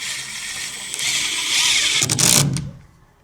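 A power driver runs screws into sheathing on a DIY workshop wall, whirring steadily for about two seconds, then rising in a louder final burst before cutting off. It is close and loud with no talking.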